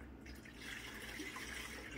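Dirty water from a Rainbow vacuum pours into a blue basin, a soft steady splashing and trickle heard close and quiet, with no speech.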